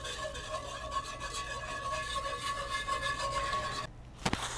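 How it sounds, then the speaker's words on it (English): Spice rub being stirred into spicy brown mustard in a small bowl, a steady close scraping and rubbing that runs for several seconds, then a brief pause and a couple of clicks near the end. "Let me just stir this up a little bit,"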